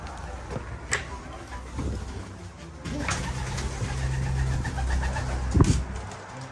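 Racing pigeons coo softly in a loft during club training, their low murmuring calls recurring against steady background noise and a faint engine hum.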